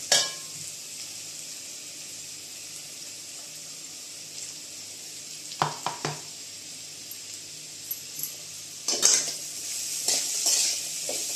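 Roasted peanuts go into sabudana khichdi being stirred in a pan, with a faint steady sizzle, scattered spoon scrapes and metallic clinks, and a louder burst of stirring near the end.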